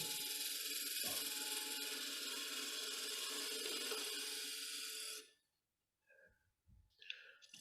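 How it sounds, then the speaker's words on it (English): A flat scraper drawn over the wooden sides of a threaded box gives a steady, dense rasping scrape for about five seconds, then stops abruptly, followed by a few faint knocks and handling sounds. "This is just a flat scraper to get my sides straight."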